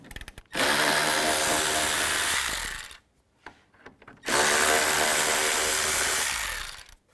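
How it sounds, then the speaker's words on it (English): Power tool, likely a drill-driver with a T30 socket, spinning out screws on the VVT solenoid cover of a 2007–2012 BMW X3, in two loud sustained bursts of a few seconds each, separated by a short quiet pause. "I want to take these 4 screws out. I'm going to use a T30 socket."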